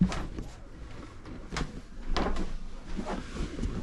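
Storage double doors in a boat's V-berth bump and thud open in a few soft, close knocks and rattles, with quiet room noise between them.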